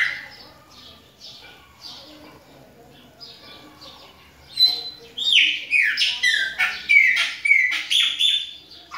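A chopi blackbird (pássaro preto), a female kept in a cage, sings loud, close, varied whistled phrases and chirps after a few seconds of faint, scattered calls.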